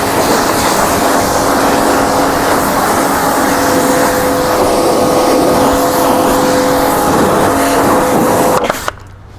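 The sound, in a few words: pressure washer washing tractor wheels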